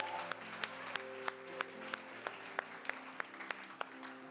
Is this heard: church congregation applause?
yes